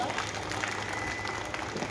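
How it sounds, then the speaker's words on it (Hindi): An audience at a film event applauds, a steady patter of clapping heard at a moderate distance under a continuous murmur. "गोटे जोरदार करताली हो जाऊ"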